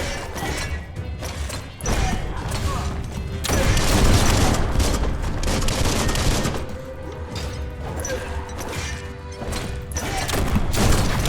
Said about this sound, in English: Oh, I'm shooting him.